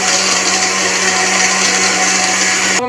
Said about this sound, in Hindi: इसी तरह हम ग्राइंड कर लेंगे।